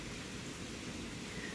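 Rain falls steadily during a storm as a faint, even hiss of broadband noise, continuous and distant, with no voices.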